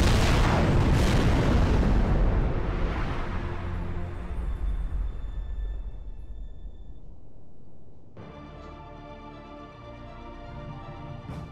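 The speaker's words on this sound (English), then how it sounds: "The ship has been destroyed." A starship explodes in a Star Trek Bridge Commander space battle, a loud rumbling blast that rolls on and slowly fades over several seconds before giving way to a steady electronic hum.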